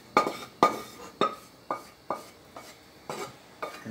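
A spoon stirs a sofrito in a cooking pot, making eight evenly spaced scraping knocks against the pot about every half second. The sounds are close and moderately loud, with no voices.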